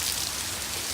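Steady rain in a California thunderstorm, a dense even hiss of drops falling on surfaces, close and continuous with no voices over it.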